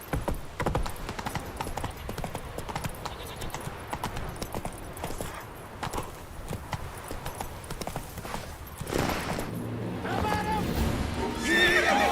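A horse galloping in The Witcher 3: rapid, steady hoofbeats up close, with neighing and whinnying, a spoken voice over the top, and a louder rush of sound building toward the end.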